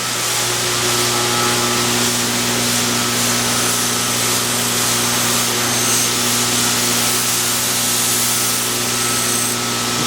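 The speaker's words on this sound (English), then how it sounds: "So then now we have a 240 wheel and we're going to satin finish it." A 240-grit wheel satin-finishing a CPM-3V steel knife blade gives a steady, loud whirring grind with a constant motor hum, unbroken for the whole stretch, with no voices.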